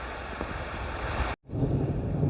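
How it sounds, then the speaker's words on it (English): A heavy outdoor storm brings a loud, steady roar of wind and rain, close to the microphone, that briefly drops out to near silence and then resumes. "we got one heck of a good storm"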